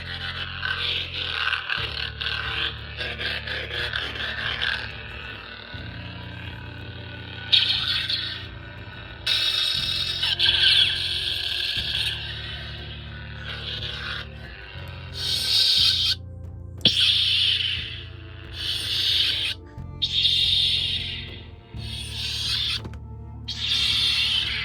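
A custom double-bladed lightsaber cycles through its activation effects, with repeated ignition bursts, buzzing hums and crackling swells starting and stopping at close range, no voices.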